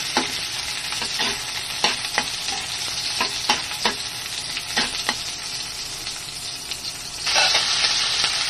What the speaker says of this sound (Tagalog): So, sutay muna natin yung bawang at saka sibuyas.